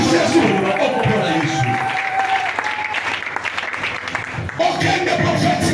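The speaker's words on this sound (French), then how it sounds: "Est-ce que tu peux faire du bruit pour Jésus? Acclame pour le Seigneur." A church congregation cheering and applauding for Jesus, loud sustained clapping and crowd noise filling the room while a preacher's voice carries over it.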